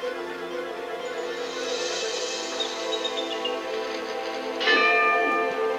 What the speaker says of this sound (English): I just wanted to ring that bell just because.